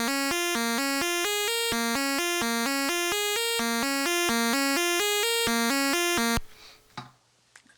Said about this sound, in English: it does have that older, like almost NES feel to it because it's using a lot of that pulse width wave